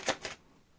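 A deck of tarot cards is shuffled in two quick riffling bursts, close and crisp, then quiet room tone.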